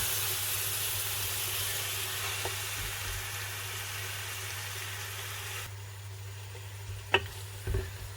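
Vegetables sizzling gently in a pot during Nigerian vegetable soup cooking, a steady low frying hiss with a few faint stirring knocks and scrapes near the end, no talk.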